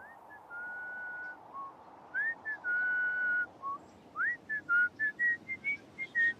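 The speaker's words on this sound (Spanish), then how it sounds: "¿Qué silbas, Diego?" Someone whistles the Marcha de San Lorenzo, a jaunty march melody, clear and close, with sustained notes early on, then quick clipped phrases toward the end.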